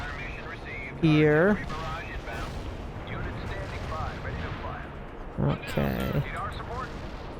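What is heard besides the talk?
artillery shelling in video game World in Conflict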